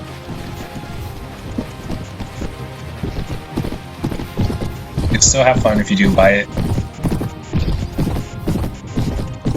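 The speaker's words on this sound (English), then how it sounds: "I gotta call these horse archers to me" Horses gallop in the Mount and Blade Warband Viking Conquest game, a dense run of clip-clop hoofbeats with a brief louder crash and whinny midway, while someone talks over the action.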